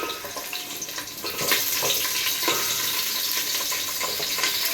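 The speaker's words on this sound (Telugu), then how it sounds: "నూనె కూడా వేడెక్కింది నెక్స్ట్ నేను పలావ దినుసులు కట్ చేసిన కూరగాయలు వేసుకున్నానండి వేసుకుంటాను" Chopped vegetables and pulao spices crackle and sizzle in hot oil, frying on the stove with some stirring. The noise is fairly loud and constant and grows a little denser partway through, with no talk over it.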